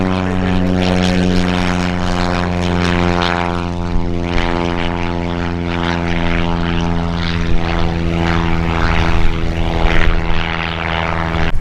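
A yellow high-wing propeller airplane arriving to land on the runway at EAA AirVenture Oshkosh, its engine drone loud, close and steady throughout with a strong tonal hum and slight fluctuations as it passes.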